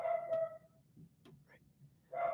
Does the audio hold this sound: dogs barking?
yes